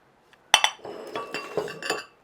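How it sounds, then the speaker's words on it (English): Glass and dishes clink and clank in a burst of sharp, close metallic-glassy hits, starting abruptly and continuing as scattered rattles for about two seconds, with no talking. "Sorry, all the clinking,"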